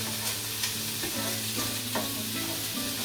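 Prawns sizzle steadily in a hot pan for pasta, a constant close frying hiss with faint stirring scrapes and no talking.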